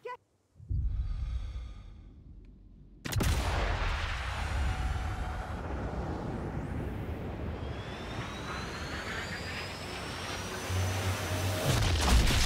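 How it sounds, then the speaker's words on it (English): A tank explodes in the Sniper Elite video game: a sudden loud blast cuts in, then a long, heavy roaring rumble with ringing tones slowly dies away. "we've got a tank here that can be exploded"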